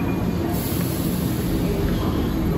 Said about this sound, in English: this is our train, and you see it says GoldenPass. It's a GoldenPass Express.